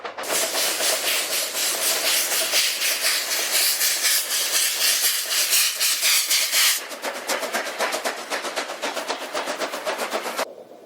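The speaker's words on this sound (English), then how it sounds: "coal trains fighting the hill offered a spectacle that woke local residents each day well before dawn" A steam locomotive hauling a coal train uphill labors hard, its loud rhythmic chuffs and hissing exhaust beating steadily, then slowing into sharper, spaced blasts as it strains onward before dawn.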